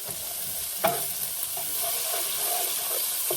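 Onions sizzle and crackle steadily in a hot pan, with a soft clink of a utensil stirring near the start.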